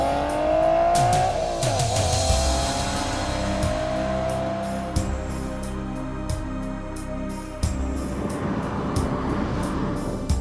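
A VW Golf R and a BMW M135i are being compared in 0-100 km/h acceleration runs. The engine sound climbs steadily in pitch under hard acceleration, drops sharply at gear changes, and is heard loud and close.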